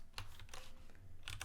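Keys clack on a computer keyboard during a Craft CMS setup, a few quick separate keystrokes heard close and fairly quiet, with short gaps between them.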